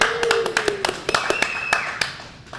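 Applause from an audience at a shop event, heard as a quick run of sharp, separate claps and taps from a few hands rather than a full ovation, steady through the moment, with a faint tone drifting underneath.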